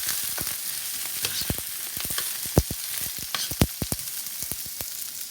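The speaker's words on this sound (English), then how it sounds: "Honey, you want to stir those green beans?" Green beans fried in a home kitchen pan, a steady sizzle broken by frequent sharp pops and crackles, close and fairly loud, with no talking.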